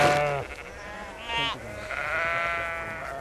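Sheep on a farm at the Scotland–England border bleat loudly and close by in several long, wavering calls that overlap and run one after another, with faint rural background noise and no talking.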